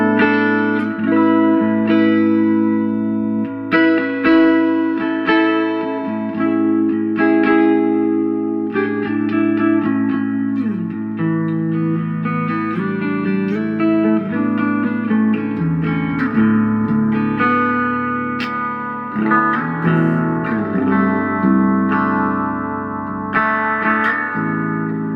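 Distorted electric guitar played through a Rockit Super Lead 130 1x12 combo, an 80s New Zealand boogie-style amp, with reverb switched on; sustained chords and riffs ring out steadily and loudly with no talking.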